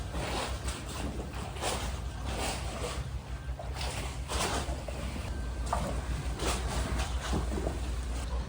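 A boat rocks in the wake of fishing boats speeding past, with continuous water sloshing and slapping against the hull mixed with wind and rain noise, all at a steady moderate level.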